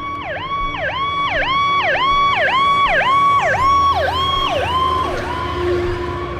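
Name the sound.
ambulance siren passing, pitch dropping (Doppler effect)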